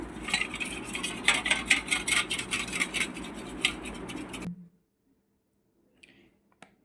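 Two eggs being mixed into red velvet cake batter in a bowl: close, busy scraping and clinking of a utensil against the bowl for about four and a half seconds, then a sudden stop into near silence with a couple of faint clicks.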